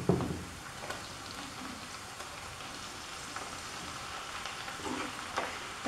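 Spinach, onion and garlic fry in olive oil in a pan, a soft, steady sizzle with faint crackles and occasional stirring scrapes, heard up close and fairly quiet.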